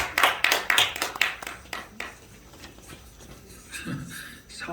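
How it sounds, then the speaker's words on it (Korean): A church assembly audience claps in a brief burst of distinct, fairly close claps that thin out after about two seconds. Faint rustling and shuffling follow, along with a murmured voice. "박수 영광 드립니다"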